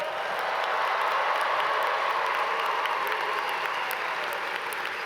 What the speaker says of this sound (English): make sure to give yourself another round of applause, loud enough so they can hear you in Salem